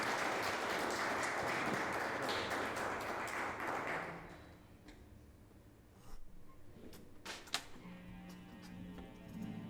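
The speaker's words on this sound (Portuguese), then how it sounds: "Aplauda o Senhor" Church congregation applauding during a worship service, a loud burst of clapping for about four seconds that cuts off, followed by quiet room noise and a few faint taps.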